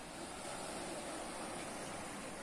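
Sea waves at Ubatuba beach in São Paulo, Brazil, along the coastal trail to Bonete Grande, make a steady, loud, broadband wash of surf that runs evenly through the whole stretch with no voices.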